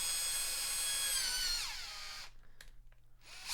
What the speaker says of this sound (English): drill my pilot